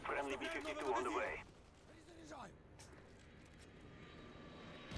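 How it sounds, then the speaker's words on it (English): A B-52 bomber roars loudly overhead in the Call of Duty: Black Ops match on the Hanoi map. The heavy engine drone fills the opening second and a half, then gives way to quieter game noise while voices talk throughout. "Friendly B-52 on the way."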